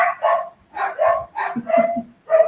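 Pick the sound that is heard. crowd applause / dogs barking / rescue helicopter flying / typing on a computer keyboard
dogs barking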